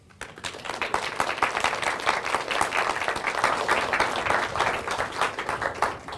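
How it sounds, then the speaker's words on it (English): An audience at an annual educators' conference breaks into sustained applause, a dense, loud wash of many hands clapping that holds steady for several seconds. "All right, we're going to clap"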